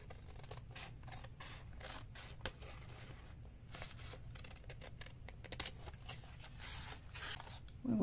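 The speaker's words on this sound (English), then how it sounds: "Let me just cut this right here" Scissors snipping through paper for a shabby Christmas craft booklet, a quiet, close series of repeated crisp cuts over a low background hum.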